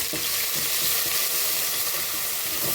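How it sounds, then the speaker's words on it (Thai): Thai curry paste of dried chilies and shrimp paste fries in hot oil, a dense, even sizzle with soft stirring scrapes running close and loud throughout. "เจ้าตั้งน้ำมันให้เดือดแล้วก็จะใส่เครื่องแกงของเขาลงไปเลยนะเจ้า"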